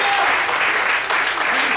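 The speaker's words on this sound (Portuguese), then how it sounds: "Quantos podem aplaudir o Senhor nessa noite?" A church congregation at an evening service claps for the Lord, with loud, continuous applause throughout and voices mixed in amid the clapping.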